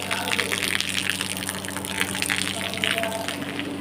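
Rainwater pouring and gushing in through a leaking roof during rain, a steady broadband wash of falling water that runs unbroken and fairly close throughout.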